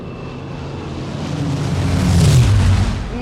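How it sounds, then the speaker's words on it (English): Spitfire fighter plane with a Rolls-Royce Merlin engine passing overhead, a low rumbling drone that swells to a loud peak near the middle and then eases slightly, heard alone with wind-like roar. "Rolls-Royce Merlin engines. Sweetest sound you could hear out here."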